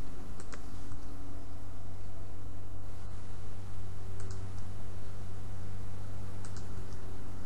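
Computer mouse clicks and keyboard taps sound at a desk as scattered sharp, close ticks over a steady low electrical hum.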